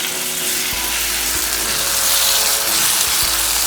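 Mixed vegetables with gravy sizzle on a hot tawa as they are stirred together, a steady loud frying hiss broken by occasional scraping knocks of the spatula.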